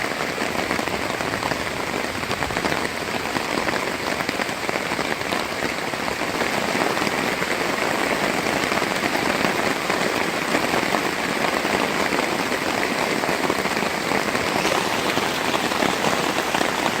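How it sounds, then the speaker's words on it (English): Steady rain patters on a wet overnight campsite at Nerstrand State Park, Minnesota, as the wind picks up, forming a continuous, even hiss with no voices. "Yep, it's raining and the wind's picking up."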